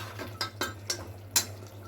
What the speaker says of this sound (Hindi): इसको मिला लें अच्छे से